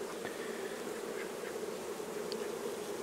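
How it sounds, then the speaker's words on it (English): Honey bees in a hive box on a farm make a dense, steady buzzing drone close by, with no talk over it. "you know, basically a box full of bees"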